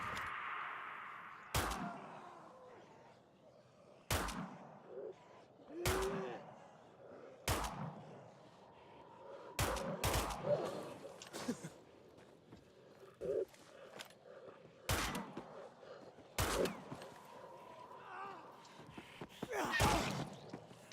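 Sharp, isolated shots ring out in Dying Light 2, fired from an SMG at viral enemies, about eight separate loud cracks spaced a couple of seconds apart over quiet ambient noise.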